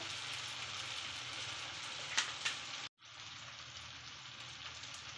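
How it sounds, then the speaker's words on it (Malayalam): Vinegar hitting hot garlic pickle in a pan gives a faint, continuous crackling sizzle with a couple of small pops, a momentary dropout, then the sizzle resumes evenly; no one speaks. "ഇനി നമുക്ക് കുറച്ച് വിനാഗിരി ഒഴിച്ചു കൊടുക്കാം"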